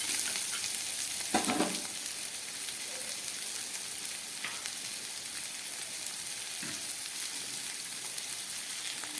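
Lentil dumplings (bori) sizzle in hot oil with a pinch of salt for a bitter gourd dish, a steady fine crackle with a short louder burst early on and a few soft stirring knocks.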